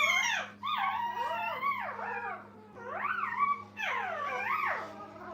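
Several young puppies in a kennel howl and whine in wavering, overlapping cries, with two longer bursts separated by brief lulls, close and clear over a low background hum.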